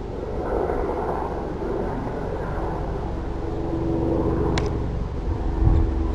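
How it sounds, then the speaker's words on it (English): A firefighting helicopter flies over a wildfire near Monsanto, Castelo Branco, its low rumbling drone loud and continuous, swelling slightly as it nears, with a brief high whine midway. "Well, that's one helicopter, and here comes another one"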